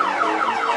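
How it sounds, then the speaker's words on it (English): Car alarms sound continuously on a street in San Cristobal de las Casas, a loud, steady electronic wail with repeating pitch sweeps and no talk over it. "Setting car alarms off everywhere."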